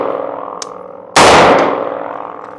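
A PSA JAKL 300BLK rifle with its adjustable gas block fully open fires a single loud, close shot that rings out and decays after a moment of quiet ambience.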